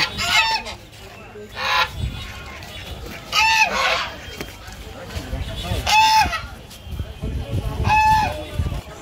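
Chinese geese honk at a poultry market in several loud, separate bursts spaced a second or two apart, mixed with other fowl and a busy background, while people talk nearby.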